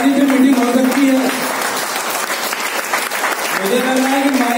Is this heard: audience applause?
yes